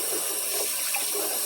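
Tap water runs into a kitchen sink that is filling for washing up, a steady close hiss and splash with slight gurgling shifts, no voices.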